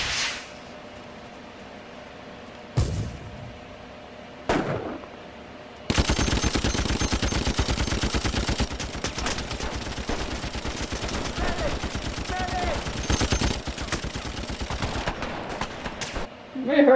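Machine-gun fire from the war film The Big Red One starts with a few single shots, then breaks into a long, dense, continuous rattle of rapid bursts that lasts about ten seconds.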